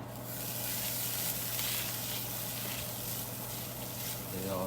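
Butter melting in a hot pan for a pork stir fry, a steady soft sizzle and crackle with faint background hum, fairly quiet throughout.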